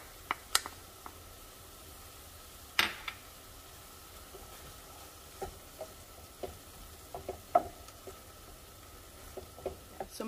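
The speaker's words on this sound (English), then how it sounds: "I'm gonna go ahead and add my garlic and just continue to saute and brown everything well." Ground beef and garlic saute quietly in a pan, a soft low sizzle broken by scattered ticks and scrapes of a utensil stirring.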